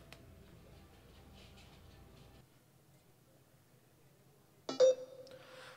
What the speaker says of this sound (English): That was the sound of the Beats Pill connecting to my phone.